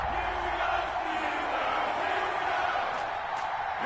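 A stadium crowd in an EA Sports football video game, Denver Broncos against Pittsburgh Steelers, roars in a steady, dense wash of noise that fills the whole stretch, loud and continuous.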